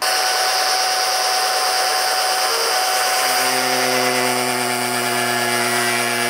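Power tool cutting through the plastic rear bumper of a Lexus GX 550, a steady loud whine that rises into sharper, higher tones about halfway through, running continuously with no talk.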